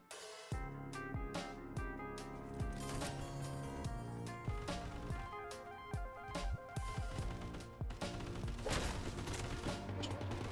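A machine gun firing in the shooter game Sulfur, with dense, rapid bursts of sharp gunshots and booms in uneven clusters that fill the passage, set over a sustained tonal backdrop.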